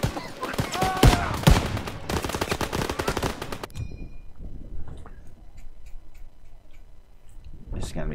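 Call of Duty WWII battlefield with a rapid, loud burst of close machine gun fire lasting several seconds amid shouting, then stopping abruptly, leaving faint scattered distant shots.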